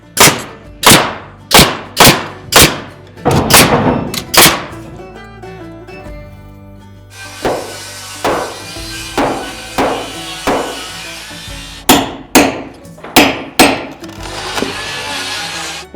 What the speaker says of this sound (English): I'll probably nail this so it stays and then I'll work my way down.